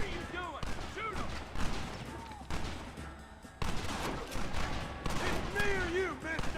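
Gunfire in a shootout in the video game Red Dead Redemption, with dense bursts of shots and ricochet whines under overlapping shouting voices and game sounds.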